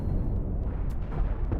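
Deck cannon blasts from a ship in the space game Cosmoteer form a dense, continuous rumble of overlapping explosions, with sharper pops breaking through near the end.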